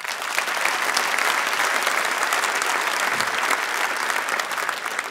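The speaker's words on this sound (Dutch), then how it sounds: "Mag ik een groot applaus voor Jetta Kleinsma?" A conference audience claps loudly for Jetta Klijnsma, a dense, steady burst of applause that fills the hall without pause for five seconds.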